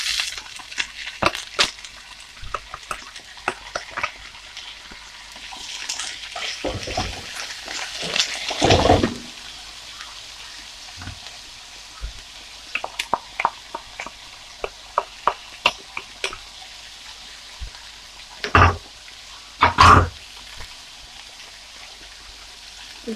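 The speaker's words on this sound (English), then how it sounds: "Gonna add some chopped cabbage. I can go on to sauteing." Chopped cabbage and mixed vegetables sauté for a Jamaican-style stir-fry chop suey, with a soft background sizzle broken by repeated scraping, stirring clatters and louder bursts of pan noise, and no talk.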